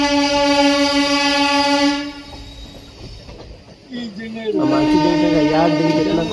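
Kosi Super Express train horn sounding in long steady blasts up close, briefly fading, then returning with wavering tones over running rail noise.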